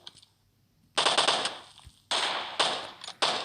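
Automatic gunfire in PUBG Mobile polar mode, several sharp bursts of rapid shots after a quiet opening, loud and close, with short pauses between volleys.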